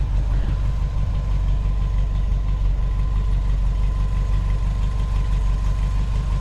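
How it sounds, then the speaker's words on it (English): A carbureted Toyota 22R engine idles close by, a loud, steady low rumble with a rapid even knocking pulse throughout. "Which brings me to the next subject, which is this motor. This is 22RE."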